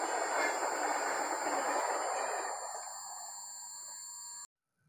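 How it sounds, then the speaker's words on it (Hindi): A long train passing close by near Roorkee, with a loud rushing rumble and steady high wheel squeal that eases off and then cuts out abruptly. "सो ट्रेन चली गई"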